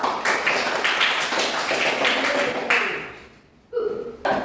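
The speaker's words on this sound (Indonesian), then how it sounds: "Berikan aplaus." Classroom audience applauding after a group presentation, a dense, loud burst of clapping that fades out, followed by a short voice.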